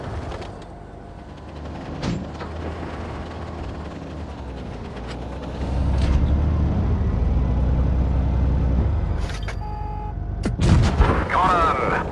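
Tank cannon fire in World of Tanks Blitz, several sharp booming shots spaced across the clip over a rumbling engine and battle background, with a loud cluster of blasts near the end.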